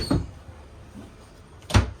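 Cabinet door under the sink in a 2022 Forest River Salem Hemisphere 270FKS travel trailer, two close, sharp thuds about one and a half seconds apart with a faint knock between them.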